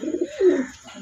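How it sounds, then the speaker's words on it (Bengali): Large Gopalganj pigeons coo in a few low, throaty phrases, close by and clear with no talking. "এটা হলো গোপালগঞ্জের বড় পায়রার বাচ্চা"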